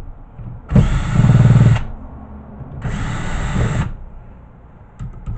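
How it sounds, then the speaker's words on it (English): A power drill backs screws out of the cast aluminum base of a VHS recorder in two loud, close bursts about a second long each, separated by a quiet gap. "We'll just take all the screws out."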